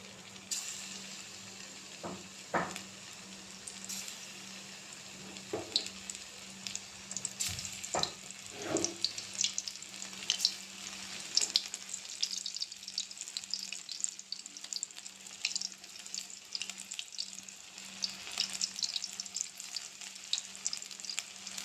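Marinated chicken pieces sizzle in hot oil in a kadai, a steady crackling fry with occasional sharper pops and stirring sounds, no talking.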